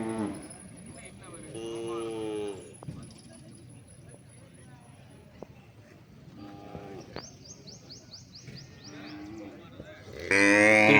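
Native cattle low repeatedly at a village cattle market, several loud moos rising over a busy crowd background with people talking nearby.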